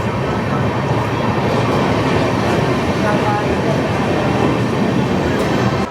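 The 13161 Tebhaga Express, an LHB-coach train running from Kolkata toward Balurghat, rumbles loudly and steadily from onboard, with continuous wheel and carriage noise.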